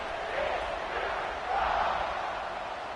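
Stadium crowd roar in a college football video game, TCU versus Colorado, a broad steady wash of cheering that swells twice over three seconds with no distinct voices.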